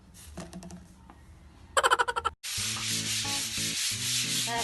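Sandpaper rubs against a wall in a room being prepared for painting, first a few quick scratchy strokes, then a burst of rapid scrapes, then a loud sustained rough rasping close by.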